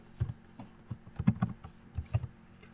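Typing on a computer keyboard, heard up close as a short run of irregular, soft key clicks and taps with no talking.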